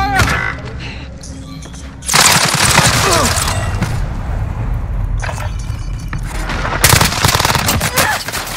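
Gunfire in the video game Call of Duty: Modern Warfare, with dense bursts of automatic weapon fire and loud shots crackling close by over a rumbling battle backdrop, intensifying midway and again near the end.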